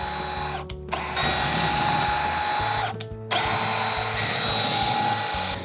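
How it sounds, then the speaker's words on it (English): A power drill bores pocket holes into a wooden cabinet for a DIY coffee station, two loud sustained whining runs close by, separated by brief pauses as the trigger is released. "I'm gonna go ahead and just drill out the pocket holes for this so we can connect it."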